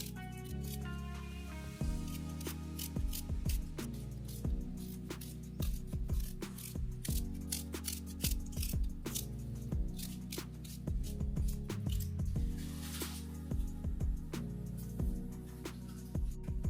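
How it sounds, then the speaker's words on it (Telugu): Three onions are sliced by hand without a chopping board for chicken curry, a run of crisp, irregular cutting clicks and squishes over steady background music. "ఇప్పుడు మనం 3 ఆనియన్స్ కట్ చేసుకుందాము చికెన్ కర్రీ కోసం"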